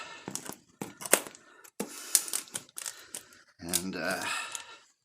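Packing straps cut on a newly delivered shrinker stretcher during an unboxing: sharp close snips and snaps with rustling wrap, mixed with someone talking.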